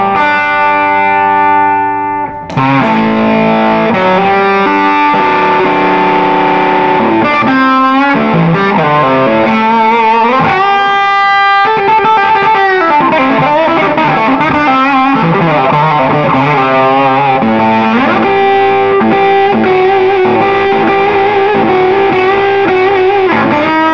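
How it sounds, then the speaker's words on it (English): An Asher Model T electric guitar on its bridge pickup plays with a heavily distorted tone, ringing chords and lead phrases sustained loudly for the whole stretch with no talk. "About halfway up is where I tend to use the bridge pickup because it reminds me of sort of a 50s Les Paul Jr. meets a Tele"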